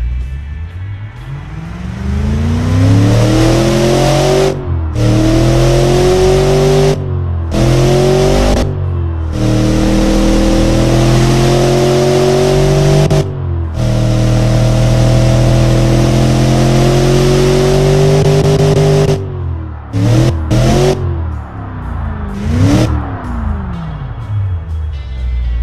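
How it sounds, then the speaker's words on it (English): A Mercedes M113 V8 in the Automation car-building game revs repeatedly, loud and close, its pitch climbing and dropping through several throttle blips with brief cuts between, then a final quick rise and fall. "Now let's rev it up."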